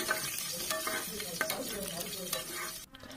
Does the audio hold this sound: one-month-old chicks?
no